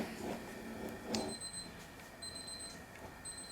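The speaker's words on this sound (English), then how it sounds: "timer's going off" A kitchen timer beeps in short repeated bursts during home beer brewing of a Citra English IPA, faint and a little distant over low background rustle.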